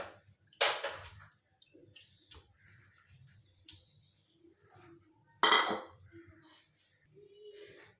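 Goat intestine (ojri) being dropped into a metal cooking pot in a home kitchen: two sharp clattering clanks of metal, then softer scattered clinks and scrapes, fairly faint with quiet gaps.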